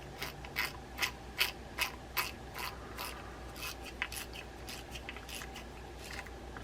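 A Shakespeare Ugly Big Water 70 spin fishing reel is cranked after servicing, giving soft, quiet ratcheting clicks and light gear whirring in an irregular rhythm, close up with no talk.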